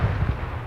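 A Rhino MGS tank firing a missile at a target in the video game Arma 3, a short, heavy, low boom with a rumbling tail, loud and close.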